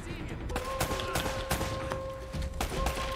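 Rapid bursts of gunfire crack out in Uncharted: Drake's Fortune, loud, sharp shots arriving in irregular clusters, with a steady electronic tone running through and voices speaking now and then.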